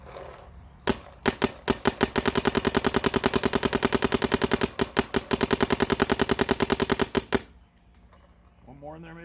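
Planet Eclipse Geo 4 paintball marker firing outdoors in fast, sharp cracking bursts, a rapid string of near-even pops broken by a few single shots, loud and close.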